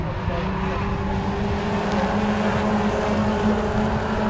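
BMW Compact Cup race cars thunder past at Donington Park, a loud, steady engine roar with a sustained drone, close and continuous throughout.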